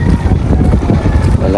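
Strong outdoor wind in the early morning in Mindoro roars and buffets the microphone in a loud, continuous low rush, with no clear speech.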